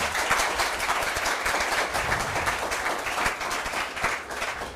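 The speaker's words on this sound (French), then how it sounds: "je nous applaudis tous les deux équipes chaleureusement" A crowd at a school quiz match applauds both high school teams warmly, a sustained, even roar of many hands that tapers slightly at the end.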